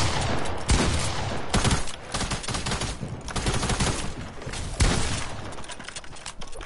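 Dense, sustained gunfire from a shooter video game, with rapid overlapping automatic bursts and sharp single shots filling the whole stretch, loud and continuous.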